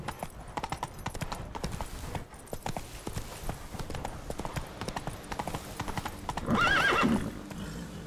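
Roach, a horse in The Witcher 3 video game, gallops with rapid rhythmic hoof clip-clops on the ground, followed by a short whinny near the end. The sound is close and continuous.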